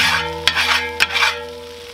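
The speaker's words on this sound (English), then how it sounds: "Now we'll clean off the griddle" Metal scraper working across a Weber Gourmet BBQ System griddle, two sharp clanks followed by rasping scrapes over a sizzling hot surface, loud and close, fading toward the end.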